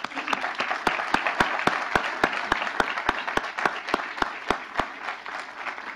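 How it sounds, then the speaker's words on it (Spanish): An audience at a Senate security and justice seminar applauds its speakers, steady crowd clapping with a strong, regular beat of loud claps from one nearby pair of hands cutting through the wash of the rest. "agradeciéndoles con un aplauso a nuestros ponentes"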